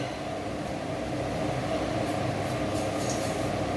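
A kitchen range hood fan runs at full power while onions are set to sweat for a cheese soup, a loud, steady broadband whoosh with no breaks throughout.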